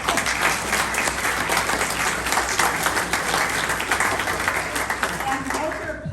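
A theatre audience applauds after a community play, a dense, steady burst of many hands clapping that carries on at even strength, with voices faintly underneath.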